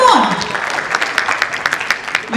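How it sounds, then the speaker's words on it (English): Loud audience applause at a tourism conference session, dense rapid clapping filling the room close by, with a host speaking over it as the clapping rises. "ladies and gentlemen, we can have a louder applause"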